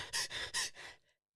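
A voice imitates gasping for air after hard crying: three quick, loud breathy gasps, then a softer trailing exhale into near silence.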